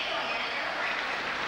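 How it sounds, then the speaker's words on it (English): A large crowd at a 1986 men's gymnastics all-around final hums with a steady, dense murmur of anticipation, broad and continuous with no single voice standing out. "Great buzz of anticipation from the crowd."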